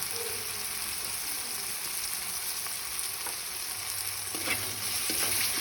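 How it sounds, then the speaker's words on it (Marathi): Tomatoes and seasonings for toor dal sizzle gently in a pan, a soft, steady frying hiss with occasional faint stirring scrapes, fairly quiet and without speech. "हे सर्व आपण थोडा वेळ फ्राय करून घेऊ"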